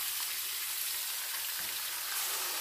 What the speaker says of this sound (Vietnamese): sau đó thì các bạn xào một hồi cho nó tăng lại